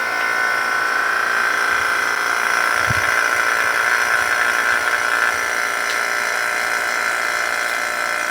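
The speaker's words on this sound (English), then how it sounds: "I got my vacuum on that. We're going to vacuum that for about a few minutes." Steady mechanical whirring hum of a freeze dryer's vacuum pump running continuously, fairly close, with one brief low thump partway through.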